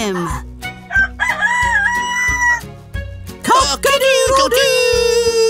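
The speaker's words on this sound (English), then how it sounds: "When roosters crow, they need to be somewhere everyone can hear them." A cartoon rooster's cock-a-doodle-doo crowing rings out loudly amid bright orchestral music with a steady bass beat, repeated calls rising over the score.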